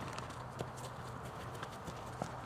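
Quiet, faint clip-clop of a horse's hooves at a walking pace, several soft hoof strikes at irregular intervals with no talking.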